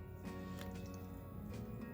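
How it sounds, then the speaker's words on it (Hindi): Water is poured in a small amount into a green chutney mixture, giving soft dripping and squishy liquid sounds, close and quiet, without any talk. "अब डालेंगे बहुत ही थोड़ा सा पानी"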